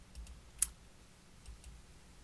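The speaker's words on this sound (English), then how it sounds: "I'm just clicking around here." A single sharp computer mouse click, faint and close, stands out against a quiet room hum, with a couple of softer ticks around it.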